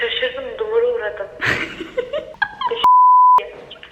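People talk and chuckle, then a single loud, pure electronic bleep cuts in for about half a second before the talk resumes.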